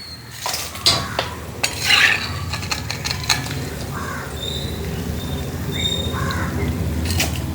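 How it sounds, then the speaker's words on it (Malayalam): Taro slices deep-frying in hot oil, with repeated metal clinks and scrapes of a spoon scooping them out of the pan over a steady background hiss. "നമ്മുടെ ചേമ്പ് ഇതാ ആദ്യത്തെ ട്രിപ്പ് ഇങ്ങനെ വറുത്ത് കോരുവാണേ."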